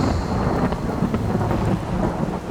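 Thunder rumbles steadily through heavy rain during a storm, a loud, continuous roll with rain noise throughout and no voices.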